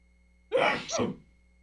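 A single close, sharp human sneeze, a quick two-part burst in an otherwise quiet room.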